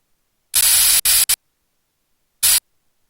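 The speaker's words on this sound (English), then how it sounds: "Let's spray some air to get the teeth nice and dry." Short bursts of dental air spray drying teeth in a doctor video game: three quick hissing blasts, then one more after a pause, each sharp and loud against silence.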